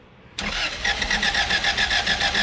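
A Honda Integra DB1 with a B18C1 engine cranks and fires up suddenly after a quiet moment, then settles into a close, steady, slightly pulsing idle.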